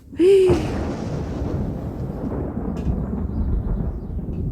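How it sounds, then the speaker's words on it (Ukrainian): Thunder rolls over a country dacha garden during an unexpected rain shower, a deep sustained rumble that swells after a brief sharp onset and keeps grumbling low and steady to the end. "Ви чули, як грім прогримів?"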